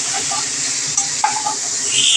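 Prawns frying in hot oil in a pan, a loud continuous close sizzle with a few light clinks of a spoon against the pan as they are lifted out.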